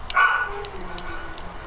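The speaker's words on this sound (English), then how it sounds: "Those are my dogs in the background. They always bark." Several household dogs bark and yip in the background, the sharp barks quite prominent at first and then settling into fainter repeated yaps beneath steady other sound.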